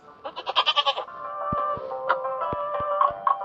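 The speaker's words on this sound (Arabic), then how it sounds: "ماعز." A goat bleats in a quick run of wavering, pulsing calls, fairly close and clear, followed by quieter sustained tones and a few sharp clicks.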